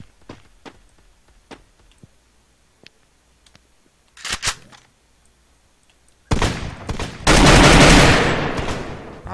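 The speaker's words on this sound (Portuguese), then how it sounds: "tem um cara atirando em nós aí, ó" Gunfire in the Free Fire battle royale game: sparse sharp single shots early on, then a louder, dense burst of sustained automatic fire in the last few seconds, with no talk over it.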